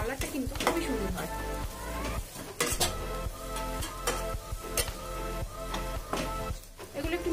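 Kashmiri chili powder and turmeric sizzle in hot oil for a restaurant-style fish curry, with a steady frying hiss, stirring scrapes and clinks of utensil against the pan throughout, over a music track.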